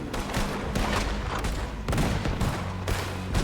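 Video game gunfire from Red Dead Redemption 2, a dense, loud burst of overlapping shots and blasts that keeps up steadily with no pause.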